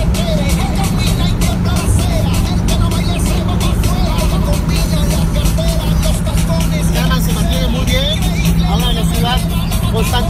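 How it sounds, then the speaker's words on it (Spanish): A 1957 Volkswagen Karmann Ghia cruises steadily down a highway, its engine and road noise forming a constant loud drone throughout while a person talks over it. "Estamos aquí manejando, el coche se desempeña perfecto"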